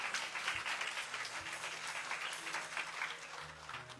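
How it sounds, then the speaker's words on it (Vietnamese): An audience at a Christmas church talk show breaks into sustained applause, a soft, steady wash of many hands clapping heard from a distance. "Chúng ta hãy vỗ tay thật lớn nữa được không ạ?"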